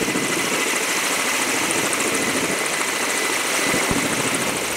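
A rescue helicopter during rescue training: a loud, steady rotor and engine roar that fills the whole clip, close by, with no voices.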